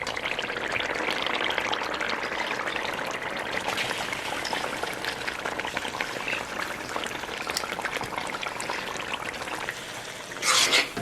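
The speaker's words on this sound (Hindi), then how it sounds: "अब इसके अंदर हम दाल शामिल करते हैं" Lentils pour and sizzle into hot oil for dal tadka, a dense crackling hiss that stays steady, then a brief louder clatter near the end.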